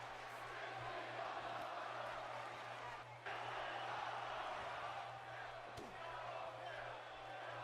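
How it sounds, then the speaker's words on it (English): A steady, loud arena crowd in the WWE 2K18 wrestling video game chants and roars throughout a Backlash match, a continuous dense wash of voices with a brief dip midway and a sharp impact near the end, under a low steady hum. "Crowd chanting, this is awesome."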